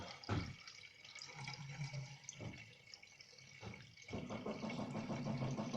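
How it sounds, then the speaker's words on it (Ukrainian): Distilled water is poured into the cooling system of a Renault Trafic 2.0 van during a coolant change, a steady splashing gurgle close by with a few brief knocks and a rising stream toward the end. "Зараз заливаємо просто дистильовану воду."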